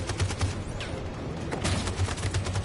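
Covering gunfire in Detroit: Become Human as a volley of rapid, close shots with sharp cracks over a rumbling low bed, fairly loud and continuous.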